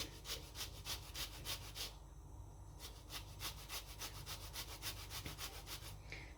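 Rhythmic scraping strokes rasp back and forth as zest is grated from a frozen lemon, steady and close, with a brief pause midway.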